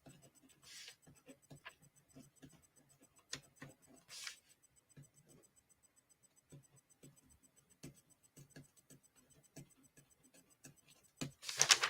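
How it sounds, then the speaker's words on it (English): Pen scratching across paper in short, intermittent strokes at close range, light and quiet, with occasional brief soft taps and a couple of louder rustles between the writing sounds. "I'm going to write that down."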